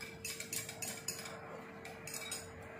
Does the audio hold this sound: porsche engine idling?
no